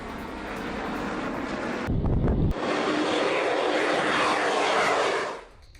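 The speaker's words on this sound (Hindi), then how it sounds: "चीन के J-20 स्टेल्थ लड़ाकू विमान की उड़ान।" A Chinese J-20 stealth fighter jet flying at an air show, a loud sustained roar of jet engine noise with a brief wind-buffeted burst, fading out at the end.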